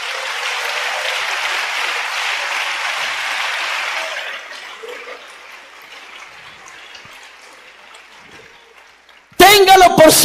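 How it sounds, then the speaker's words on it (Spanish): A church congregation at a singles' gathering in Ecuador claps loudly and steadily for about four seconds, then the applause thins to scattered claps and fades, before music abruptly starts near the end. "Denle un aplauso al Señor."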